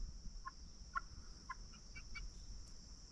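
Chickens cluck in short, soft calls spread across a few seconds, fairly close but quiet, over a steady high whine and low background rumble.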